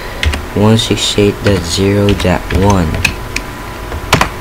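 Keys clack on a computer keyboard as a router gateway address is typed, with irregular quick taps mixed under a man's close speech.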